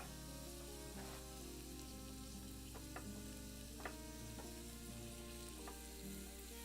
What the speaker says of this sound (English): The stirring mechanism maybe needs a little work.